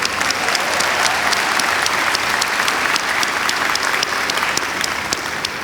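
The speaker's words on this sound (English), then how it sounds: "We can keep clapping." Loud, sustained applause fills the hall at a Framingham State graduate commencement ceremony, with a thick, even roar of many hands clapping continuously from start to finish.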